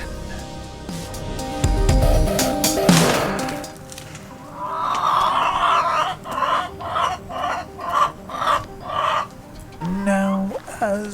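Chickens cluck in a rhythmic series of close, loud calls, after a burst of activity and rustling, with a rooster's crow and farmyard fowl nearby.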